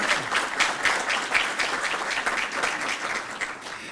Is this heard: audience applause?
yes